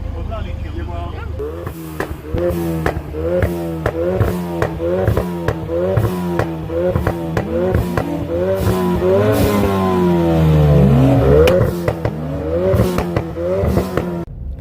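Street racing cars, an Audi S3 8V, a Ford Focus RS Mk3 and a 370 HP BMW F30 335i, accelerating hard, loud engines climbing through repeated rapid gear shifts, heard close from inside, with a passing roar near the end.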